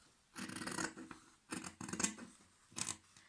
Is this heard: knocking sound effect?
no